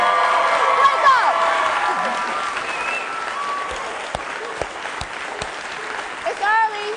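Audience at a fall diversity series keynote cheering and applauding loudly, a dense wash of clapping with scattered whoops and shouts that carries on steadily from start to finish.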